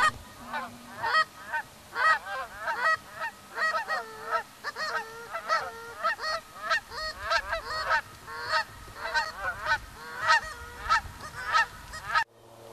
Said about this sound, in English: all you could hear in the distance was the geese calling back